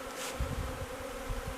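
Honeybees buzz at their hive in early spring beside snow, a soft steady drone with faint pulses of wingbeats, alone and without talk.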